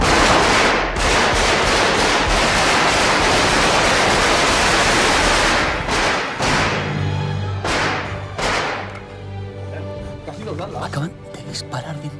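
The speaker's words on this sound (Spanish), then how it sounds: "Acaban de disparar dentro del Congreso." Heavy gunfire inside the Spanish Congress during a dramatized coup, a dense, loud roar of shots for about six seconds that then thins out and fades beneath excited voices.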